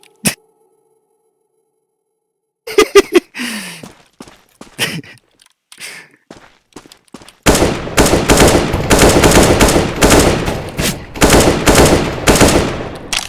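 Guns fire in a CS:GO match, first a few scattered single shots and brief bursts, then a long loud sustained automatic stream of rapid fire dominating the second half.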